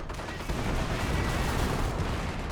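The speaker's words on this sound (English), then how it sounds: "Looks like it was an actual barrage." An artillery barrage rolls on in Company of Heroes 1 as dense, continuous rumbling blasts overlap without pause, loud and sustained throughout.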